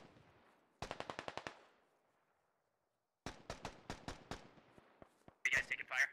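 Automatic and rapid gunfire from the military video game Squad, two close bursts of evenly spaced shots separated by a short quiet gap, with a few louder, sharper reports at the end.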